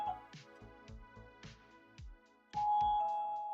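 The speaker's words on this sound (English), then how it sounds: "Who's ringing the doorbell at 10 p.m.?" A doorbell chimes repeatedly in ding-dong tones, several rings in a row, followed by a sustained electronic tone near the end.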